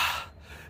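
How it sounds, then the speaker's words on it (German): A sharp gasping inhale followed by heavy breathing from a person just out of an ice bath in winter, close and fairly loud, fading into quieter breaths. "Und ich muss so schwer atmen."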